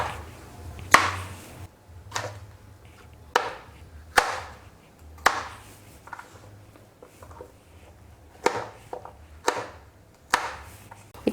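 A knife chops okra into large pieces for a tamarind curry, about ten crisp, evenly spaced thuds on a cutting board, close and clear with no talking.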